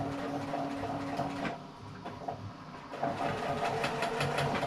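A sewing machine stitches a fabric tote bag, a soft steady whirring run that pauses briefly and then resumes, close and fairly quiet.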